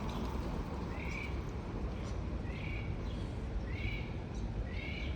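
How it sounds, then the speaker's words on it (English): Repeated bird calls ring out outdoors, four short bright cries spaced about a second apart over steady broadband background noise, fitting a parrot or parakeet calling from some distance. "that sounds like a parrot"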